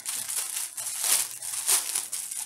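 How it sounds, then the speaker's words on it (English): Plastic wrapping on a cloth diaper package crinkles in close, loud bursts, crackling and rustling in uneven waves as it is handled. "That crinkling is probably really loud."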